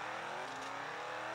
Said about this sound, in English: we're driving a 2011 Mercedes SLS AMG GT3